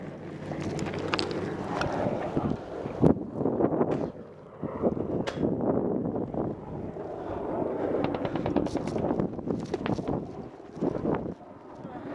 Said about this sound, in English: Hey, get down. They're shooting.